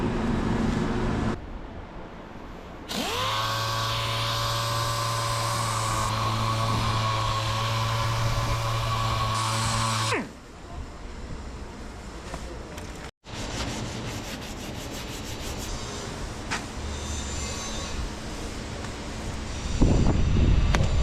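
Pinholes on the transom of a Key West 1700 boat are sanded with a steady abrasive rubbing. A droning, tonal stretch in the middle then gives way to rougher scraping, with no talking.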